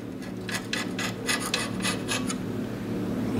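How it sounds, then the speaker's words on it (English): A window scraper blade scrapes buildup off the lower cutting blade of a Better Packages BP555e gummed tape dispenser, about eight quick rasping strokes in a row, close and fairly quiet, then a steady low hum. "This lower blade here, I'm going to scrape the face of it."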